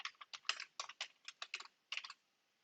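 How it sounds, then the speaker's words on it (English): Password being typed on a computer keyboard, a quick run of soft close key clicks in short bursts, then quiet at the end. "I'm going to type in the password."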